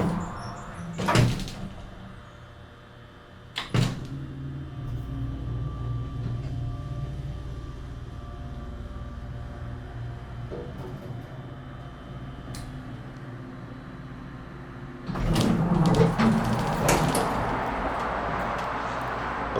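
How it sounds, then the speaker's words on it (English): A Dover traditional hydraulic elevator's motor hums steadily and low throughout, with a few sharp clunks near the start and a louder rattling stretch toward the end, like a machine room. "we'll go up to 2 and we'll listen to the motor."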